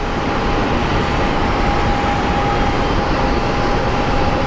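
A Delta airliner slowly taxiing at Phoenix Sky Harbor airport gives a constant, even engine rumble topped by a thin steady whine, loud and unchanging throughout, with nobody speaking.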